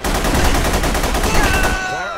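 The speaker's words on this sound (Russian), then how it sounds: "Хороший выстрел, Касл." Gunfire in The Punisher video game on hard difficulty, a dense run of rapid, loud shots filling the clip before cutting off near the end.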